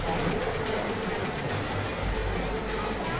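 Thunderhawk roller coaster train at Dorney Park rolling along its tracks, a steady close rumble with faint clatter that holds level through the whole stretch, with no talking.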